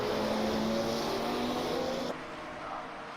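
An Aston Martin DB4 race car in a sim racing game holds a steady, droning engine note with a faint whine as it comes through the final corner, then the tone drops away as the sound cuts.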